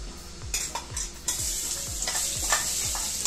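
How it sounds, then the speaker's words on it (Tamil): Mustard seeds, asafoetida, coriander and cumin tempering in hot oil for pirandai veld grape rasam: a steady close sizzle and crackle, with a run of regular low stirring or scraping strokes against the pan and no talk. "எண்ணெயிலே ஒரு தாளிப்பு"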